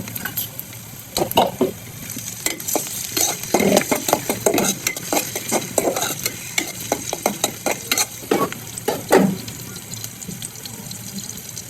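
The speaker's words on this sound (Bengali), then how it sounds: "চিংড়ি মাছগুলো লাল লাল করে ভেজে নেব" Shrimp frying in a pan for a leafy greens and prawn dish, with irregular bursts of sizzle and stirring clatter throughout, fairly close and steady, no talking.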